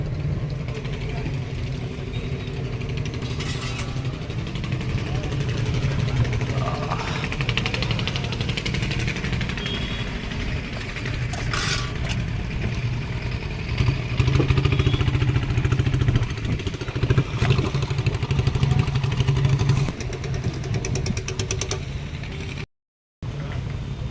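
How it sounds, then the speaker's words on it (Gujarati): A fishing boat's engine runs steadily in the engine room, a continuous loud low rumble with a rough, knocking texture close by, lasting throughout with only a momentary dropout near the end. "તમે જોઈ શકો છો આ અમારી બોટનું એન્જિન છે"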